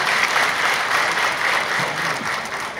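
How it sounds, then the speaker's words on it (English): Audience applause at a startup event: a dense, sustained clapping from a large crowd, steady and fairly loud throughout with no voices on top. "Can we have another big round of applause?"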